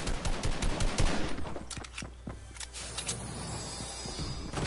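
Rapid bursts of automatic gunfire crackle close and loud in a Fortnite match, with dense volleys early, then scattered shots and a softer mechanical hum.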